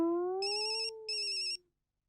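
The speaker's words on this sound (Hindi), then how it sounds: "तेरा फोन बज रहा है।" A mobile phone ringtone plays nearby as a short melodic tone with two bursts of bright chiming overtones, then stops abruptly after about a second and a half, leaving silence.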